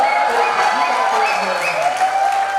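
Audience at a Hindi comic poetry recital breaking into loud applause with some cheering, a continuous close wash of clapping with voices mixed in throughout.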